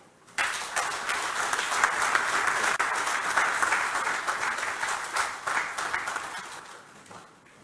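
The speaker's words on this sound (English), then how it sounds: "may I ask for another round of applause for our first Secretary General of the AfCFTA Secretariat" Audience applause at the official commissioning of the AfCFTA Secretariat in Ghana, a dense, steady wash of many clapping hands rising abruptly, holding for several seconds, then tapering off.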